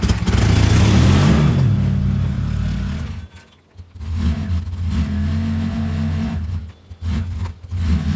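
Golf cart engine pulled out of a garage on a snowy day, a close, loud steady run with a revving swell at the start, a brief dip near the middle, then continued idling and revving.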